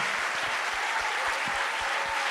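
A church congregation applauding during worship, a steady wash of clapping heard at moderate distance with a few sharper low thumps scattered through it.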